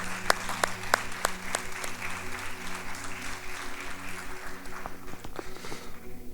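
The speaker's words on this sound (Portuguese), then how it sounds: "Vamos aplaudir o Senhor" Church congregation applauding, a crisp burst of loud claps at first that settles into a sustained, moderately loud ripple of clapping over a low steady hum, fading slightly near the end.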